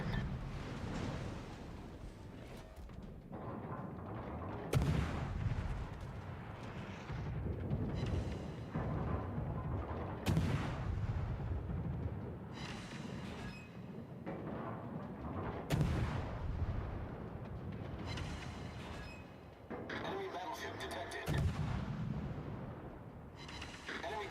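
Naval shell fire in World of Warships, with repeated heavy booming salvos and impacts at irregular intervals over a steady battle rumble, loud and close, with voices talking throughout.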